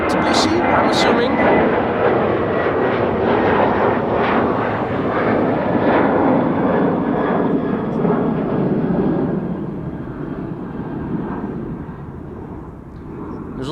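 Georgian Airways airliner departing Amsterdam Schiphol for Tbilisi: a steady, loud jet engine roar that holds broad and constant, easing slightly toward the end.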